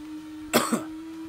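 Two short, harsh coughs in quick succession, close and fairly loud, over a faint steady hum.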